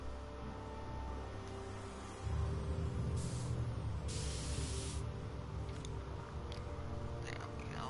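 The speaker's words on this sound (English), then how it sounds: "A can of spray paint." Spray paint can hissing out paint in short bursts, with a couple of brief, louder sprays over a low rumbling background; no talking.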